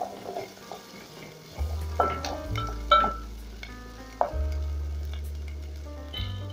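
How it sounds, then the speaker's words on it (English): Ginger frying in a pan for sossi soya, a steady close sizzle broken by several sharp clatters and scrapes as the pieces are stirred, with no voices. "I'll go in with my ginger. Then I'll cook this for about a minute"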